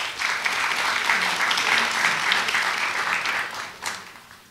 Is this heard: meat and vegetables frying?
no